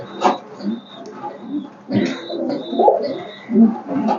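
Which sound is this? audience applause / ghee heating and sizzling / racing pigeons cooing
racing pigeons cooing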